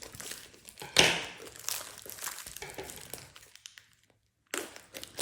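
Tightly wrapped packaging of a diamond painting kit is crinkled and cut open with scissors, a close series of plastic rustles and snips with one sharper crunch and a brief quiet gap.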